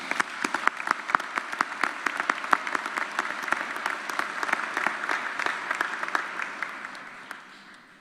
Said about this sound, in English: Please join me in applauding Kyle's performance